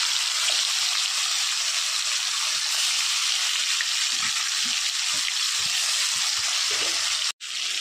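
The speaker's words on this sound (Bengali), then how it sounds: "মাছগুলো উল্টে পাল্টে ভেজে নেব।" Fish fries in oil in a wok, giving a steady, loud sizzle that lasts the whole time, with faint stirring clinks and light bumps underneath and a brief dropout near the end.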